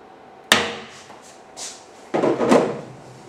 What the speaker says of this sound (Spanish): Con un botador, donde van alojados los tornillos, hacemos la señal